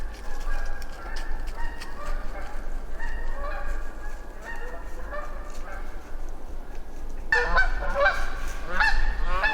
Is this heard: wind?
no